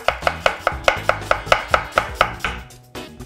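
A knife slicing Braeburn apples finely on a board, a quick even series of about a dozen crisp chops, close and loud, with no talking.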